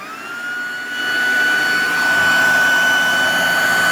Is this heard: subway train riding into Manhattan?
no